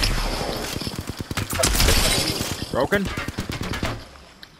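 Rapid bursts of gunfire in the battle royale game Apex Legends rattle through a dense firefight with sharp cracks and clattering impacts, while players talk over the action.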